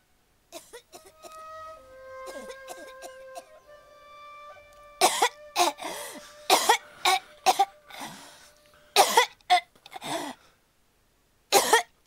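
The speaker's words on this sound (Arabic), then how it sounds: "شايفتي شلون عم يسعل" A boy coughs again and again in harsh, close bursts, some in quick clusters, with soft sustained music tones underneath at the start.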